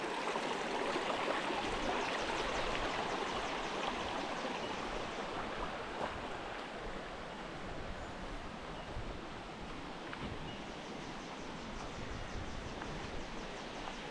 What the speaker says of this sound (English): Small brook here, hopefully labeled the brook on the map.